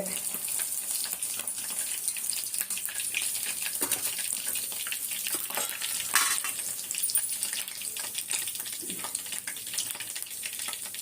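Fish sizzles steadily in a pan of hot oil, a constant crackling hiss with a few soft clinks of a utensil.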